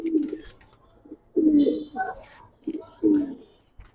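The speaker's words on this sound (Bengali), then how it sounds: "নরটা দেখেন, এই সব এক জলের কবুতর" Several pigeons of matching breed coo in low, rolling bursts at a pigeon market, three main phrases spaced across a few seconds, fairly close and moderately loud with some background murmur.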